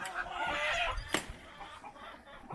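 Chickens and a rooster in a coop on a morning visit, with short clucks and squawks close by over low background rumble.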